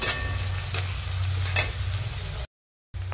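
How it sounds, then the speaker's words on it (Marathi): Onion frying with cloves and a piece of cinnamon in a pan, an even close sizzle with a few sharp stirring scrapes, briefly cutting to silence before the sizzle returns. "आता हे सगळं व्यवस्थित आपल्याला 2-3 मिनिटं मस्त असा कांदा भाजून घ्यायचा आहे"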